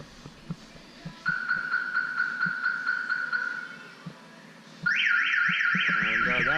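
An aftermarket car alarm with a microwave proximity sensor gives its pre-warning: a steady pulsing electronic tone, then a quick, loud warbling chirp that sweeps up and down, over faint background ticks.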